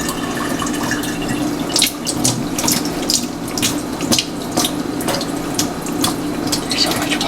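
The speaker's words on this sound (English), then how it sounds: "let all the extra water drip out" Excess water drains and drips from freshly strained quinoa in a kitchen strainer, a steady trickle broken by irregular sharp drips and splashes, close and fairly loud.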